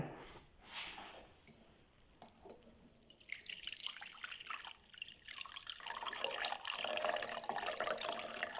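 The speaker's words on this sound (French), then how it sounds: "Ensuite, vous filtrez votre liquide." A thyme infusion, 40 g of thyme steeped in 500 ml of water, is poured through a filter, starting with a few drips and building into a steady close trickle and splash of liquid.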